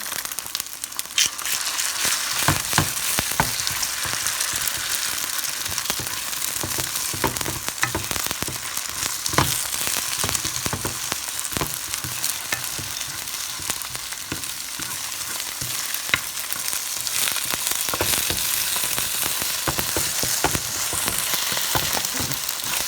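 Eggs for an egg-tomato curry fry in a pan with a loud, steady sizzle, mixed with scattered pops and stirring scrapes throughout, and nobody talks.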